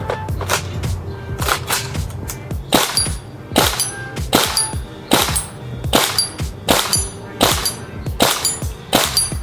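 Umarex KWA Tavor-21 gas blowback airsoft rifle fired at a target about 30 meters away, a steady string of sharp, loud shots spaced roughly every half second with metallic clacks of the blowback action.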